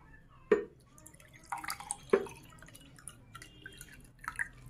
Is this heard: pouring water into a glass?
yes